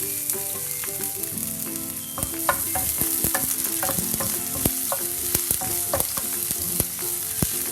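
Chopped garlic and ginger sautéing in hot coconut oil for a Kerala fish molly, a loud, close, steady sizzle broken by frequent clinks and scrapes of stirring.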